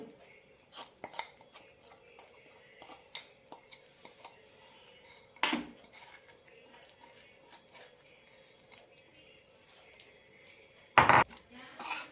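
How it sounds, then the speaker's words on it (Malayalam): Gram flour batter poured and stirred in a pan for carrot Mysore pak, with sparse light scrapes and metal clinks of a spoon, two sharper knocks against the vessel, otherwise quiet and close, no voices. "ഒഴിക്കുമ്പോൾ കൂടെ തന്നെ ചെറുതായി ഇളക്കി കൊടുക്കും വേണം"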